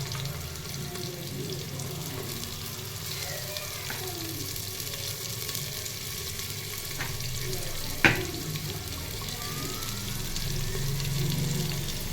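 Onion fries in a pan in a steady, low sizzle throughout, with one sharp clink partway through and faint background noise.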